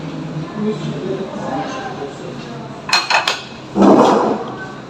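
Dishes clatter in a sink, with a few sharp clinks and a louder clattering burst near the end, over background chatter.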